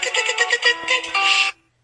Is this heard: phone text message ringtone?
yes